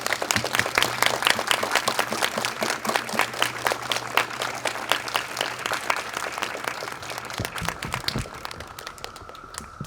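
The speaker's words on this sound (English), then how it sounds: "let's all stand and give him a round of applause and wish him well" An audience at a Springfield 5th grade ceremony applauds a retiring teacher: dense, continuous clapping from many hands for nearly ten seconds, thinning slightly toward the end.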